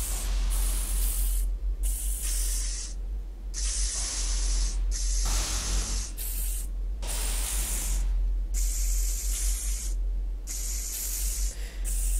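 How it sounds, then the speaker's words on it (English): Spray bottle cleaning in the video game Space Station 13: repeated hissing sprays in quick bursts separated by short gaps, loud and close, with no talking. "Get my little spray bottle out."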